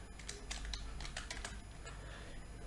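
Rapid bursts of clicking keys on a computer keyboard, close and fairly quiet, with irregular clusters of keystrokes and brief pauses between them.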